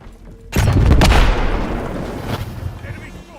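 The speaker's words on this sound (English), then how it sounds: "Thermal grenade out!" A single loud thermal grenade blast in a shooter game, from Call of Duty Modern Warfare 3, Rogue Company or Fortnite, lands as a sudden booming burst that rumbles and fades over a few seconds.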